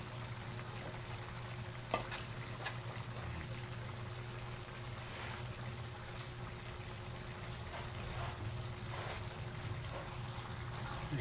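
Shrimp go into a coconut milk crab dish in the pan, and a steady, loud sizzle and bubbling of frying runs throughout, with a few faint clinks and no voices.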